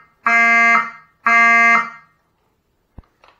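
Two long, loud electronic horn blasts from a fire alarm sound during a system test, each about half a second, followed by a sharp click and faint handling noise.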